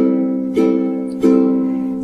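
A ukulele rings with a steady chord, strummed twice with soft, gentle upstrokes of the finger pads that add only a light attack.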